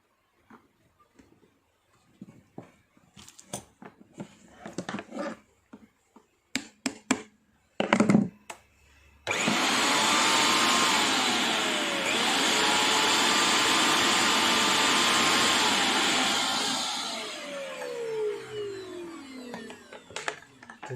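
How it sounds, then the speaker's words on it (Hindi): A Preethi Platinum mixer grinder runs after its motor replacement, a loud steady whirring drone lasting about eight seconds that then winds down, preceded by clicks and handling knocks. "एकदम परफेक्ट तरीके से वर्क कर रहा है ये मिक्सी।"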